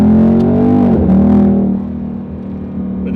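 A Ford Mustang GT V8's exhaust lets out a loud, throbbing engine note that swells, dips in pitch and then settles into a steady, slightly quieter drone, with no talking over it.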